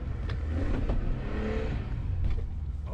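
A car's engine revs and strains as it drives through deep snow during a blizzard, a loud, continuous roar that rises and falls slightly across the stretch, heard alone without talk.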